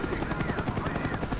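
Helicopter rotor in a Modern Warfare video game, a continuous rapid chopping thrum with loud, close, steady pulsing and no voices.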